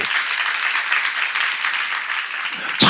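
A church seminar audience claps together, dense sustained applause that holds steady for nearly three seconds and then cuts off abruptly.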